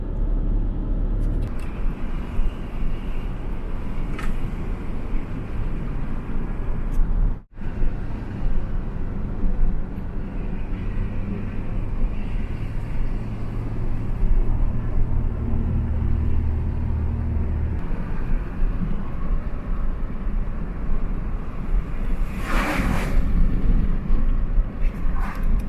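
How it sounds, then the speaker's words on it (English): A car drives down a mountain country road in Vermont, with a steady loud engine and road rumble, tyre noise and a brief dip partway through, with no talking. "We're driving down the road."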